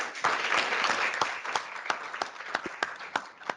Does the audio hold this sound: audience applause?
yes